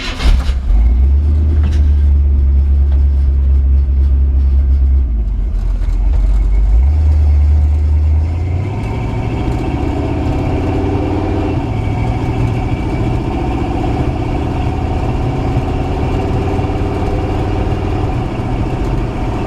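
A 1953 Ford F-100 pickup's engine runs loud and close, first a deep, heavy low rumble with throttle blips, then a steady drone as the truck pulls away and drives on, with no talking.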